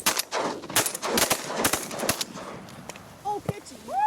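Shotgun blasts during an Oklahoma bird hunt, several sharp loud reports in quick succession, some close together, with hunters shouting and talking around them and birds calling near the end.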